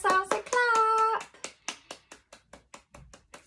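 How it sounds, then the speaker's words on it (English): A brief voice opens, then hands clap in a steady, evenly spaced run of about a dozen crisp claps that grow slightly softer, close and clear. "Give yourselves a clap."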